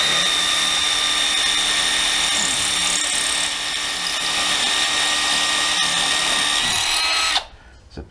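Milwaukee 12V cordless drill boring into soft brick, a loud steady high-pitched whine with grinding that runs continuously for about seven seconds, then cuts off abruptly into near silence.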